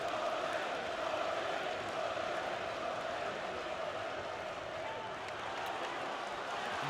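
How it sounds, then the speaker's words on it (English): A boxing arena crowd roars steadily in support of George Groves during his fight with James DeGale, a sustained, fairly distant wash of cheering with no distinct breaks. "Now the crowd get behind him."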